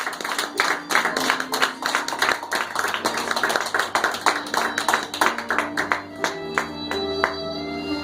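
Church congregation clapping rhythmically in praise, a steady run of sharp, evenly spaced claps that continues throughout, with sustained musical tones beneath.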